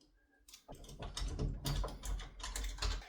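Screws being started by hand into an interior bathroom or bedroom door lever, a close sequence of small metallic clicks, scrapes and ratcheting rattles, fairly quiet, with no talking.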